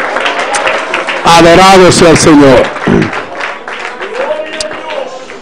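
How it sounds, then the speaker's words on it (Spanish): Congregation applauding in a Spanish-speaking church, a steady broadband patter that runs beneath a voice speaking over it and carries on after he pauses. "Fuerte ese aplauso al Señor"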